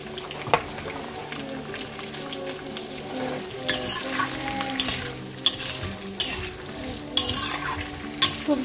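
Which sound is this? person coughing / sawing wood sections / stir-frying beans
stir-frying beans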